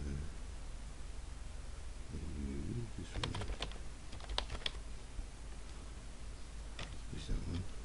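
Keys clatter on a computer keyboard as a username is typed, in a quick irregular burst of clicks and then a few scattered taps, close and fairly clear against faint background hiss.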